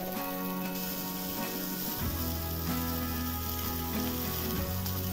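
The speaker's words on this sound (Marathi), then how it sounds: "त्या प्रकारे सारखं सारखं असं हलवत राहायचं आहे" Boiled amla (Indian gooseberry) is stirred in a hot pan for pickle, making a continuous close sizzle with soft scraping, set against a steady tonal background of music.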